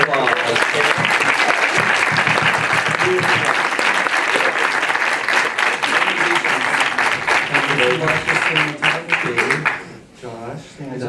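Loud, close applause from an audience at a Los Angeles film screening Q&A, vigorous clapping sustained for several seconds before thinning out, with voices talking over it near the end.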